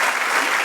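A church congregation breaks into dense, loud applause, with many hands clapping at once in a continuous wash of sound during a Spanish-language worship service.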